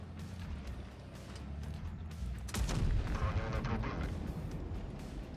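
A single heavy tank cannon blast booms midway in World of Tanks Blitz, with a rumbling low tail, over steady game background noise.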